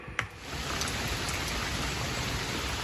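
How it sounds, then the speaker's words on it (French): Heavy rain pours steadily into puddles, a dense, even hiss of countless drops close by with a single brief knock near the start. "Il y a la pluie dans les flaques, c'est trop chouette."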